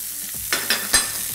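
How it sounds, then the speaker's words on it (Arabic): Onion and carrots frying in a pan as the start of a braise, giving a steady close sizzle with a few brief bursts of stirring and scraping, no voices. "هاخد شويه من البصل او كل البصل اللي عندي وهحطه هنا"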